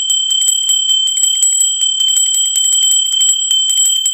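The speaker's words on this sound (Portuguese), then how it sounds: "Sininho tocou, é nova postagem no canal" A notification bell sound effect, bright high-pitched metallic dings repeating quickly in clusters, loud and clean over silence, with no talk.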